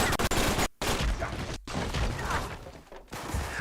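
Gunfire in the Uncharted 3 video game, dense bursts of shots and impacts that keep going with short silent gaps between the volleys.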